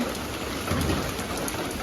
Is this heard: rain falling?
yes